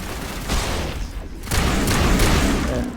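Grenades detonate in Mass Effect: Legendary Edition, two loud bursts of explosive noise with rumbling, crackling tails, the second longer and heavier, with no speech.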